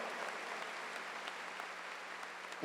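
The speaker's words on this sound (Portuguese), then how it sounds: "Pode aplaudir, porque merece aplauso." A church congregation applauding during Mass, a steady even wash of many hands clapping at a distance, with no voices over it.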